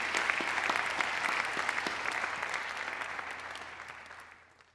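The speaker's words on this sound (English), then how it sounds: "let's give a big round of applause" An audience at a university engineering distinguished lecture applauds once the question period ends, a dense burst of individual claps that starts strong and gradually thins and fades out by the end.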